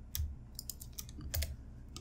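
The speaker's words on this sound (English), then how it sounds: "you could press Delete on the keyboard to get rid of it" Keys on a computer keyboard being pressed, including the Delete key, while working in a drawing program: a few quiet, irregular clicks spread over two seconds, alone with no voice.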